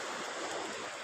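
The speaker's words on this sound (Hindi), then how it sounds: "ये पानी दी छाल ये आ गई है जी" Sea waves washing in at a beach in Jeddah, a steady broad wash of surf rolling close and loud without a break through the short moment.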